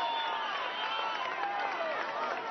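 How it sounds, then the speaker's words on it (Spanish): Crowd applauding athletes at a 2016 political rally in Plaza Caracas: a dense, steady roar of clapping and cheering from a large outdoor audience, heard alone and somewhat distant for the whole stretch. "Un aplauso a los deportistas de la patria"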